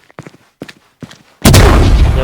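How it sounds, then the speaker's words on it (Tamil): A firecracker blasting inside a truck in the video game Firework Sim: a few faint short pops, then one sudden loud boom that rolls into a sustained heavy rumbling roar until the end. "அங்கே ஒரு ட்ரக் இருக்குது, வாங்க ட்ரக்குள்ளே வச்சு வெடிப்போம்."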